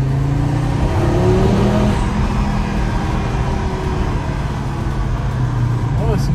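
Audi RS3 five-cylinder engine and exhaust fitted with a particulate filter, a steady, fairly loud muffled drone with a rising rev sweep early on.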